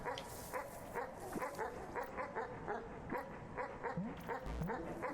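A small puppy in the Animal Well video game barks and yips in a quick, steady series of repeated short calls. The barks are faint, with a couple of higher whimpering yelps near the end.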